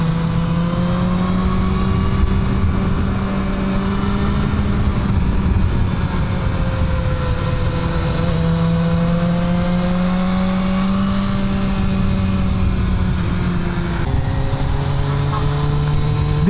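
A BMW S1000R motorcycle's loud exhaust drones steadily at idle and low revs, close and continuous with slight pitch shifts, and no talking over it.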